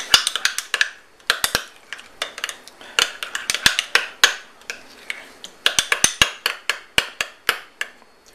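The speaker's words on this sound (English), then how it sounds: "Mix that up, and that will be my dipping sauce for the artichoke when it finishes cooking" A spoon clinks against a bowl, mixing a dipping sauce of black pepper, green chili and garlic for artichoke, with quick bursts of close metallic taps and short pauses.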